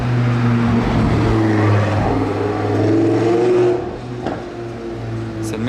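A Ferrari Daytona SP3 fitted with a straight exhaust line rumbles and revs loudly up close, a sustained throaty drone that eases off toward the end.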